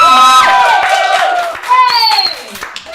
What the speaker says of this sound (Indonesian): Tepuk tangan dulu keren.